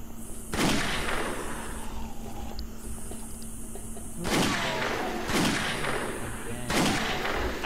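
Gunfire in the survival video game 7 Days to Die, several heavy booming shots spaced a second or more apart with long decaying tails, over a low steady background.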